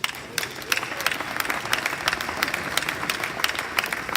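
An audience applauds at a MEDEF business event, with a few seconds of moderately loud, crisp, scattered clapping from a crowd and no talking over it.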